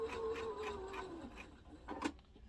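A sewing machine stitches a dart on a memory bear and then back-stitches, with a rapid, quiet mechanical whir that steps down in pitch before a few brief clicks near the end.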